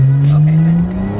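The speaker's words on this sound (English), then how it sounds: "It's Emmy's first time feeling the acceleration and also hearing the exhaust, and it's too loud." A car accelerates hard with a loud exhaust, a steady droning engine note that rises slowly in pitch over a second, close and loud, with no talking.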